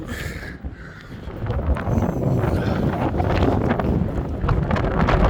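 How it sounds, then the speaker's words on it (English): Strong wind buffets the microphone on Blackpool promenade on a choppy day, a loud, continuous low rumble that swells and gusts throughout, with no talking. "Shelter you a little bit from the wind. Wow, it's got worse as well."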